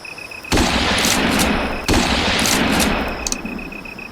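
Two loud shotgun blasts at a wild turkey during a spring hunt ring out about a second apart outdoors, each a sharp boom with a long rolling tail, with faint birdsong around them.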